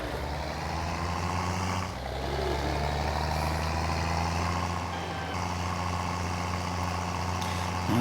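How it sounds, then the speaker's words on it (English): A tractor engine drives in Farming Simulator 19, a steady, loud low diesel drone with a constant hum, heard alone throughout without talk. "This tractor is absolutely amazing to drive."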